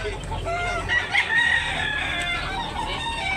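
A rooster crows close by, a 9–10-month-old gray bird with yellow legs, its drawn-out cock-a-doodle-doo rising over a steady bed of farmyard clucking and other fowl noise that runs the whole stretch.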